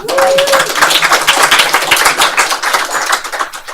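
An audience at a tech event claps for a woman being introduced as a startup founder, a dense, close patter of hands that carries on steadily throughout.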